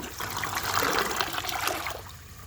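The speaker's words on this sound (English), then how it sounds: "for the first flush test, I will see how it flushes with a dry bowl" An American Standard Homestead VorMax toilet flushes with a dry bowl, giving a steady close rush of water that holds for about two seconds, then drops off quickly at the end.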